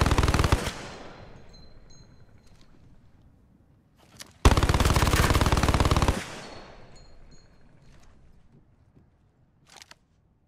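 A modded weapon in Apex Legends fires two long rapid bursts, loud and close, each trailing off into a ringing decay, followed by a few faint clicks, with no talking.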